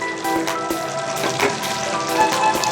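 A sponge gourd dish fries in a pan, sizzling steadily and up close as it is flipped, with occasional sharp scraping taps from the utensil cutting through the hiss.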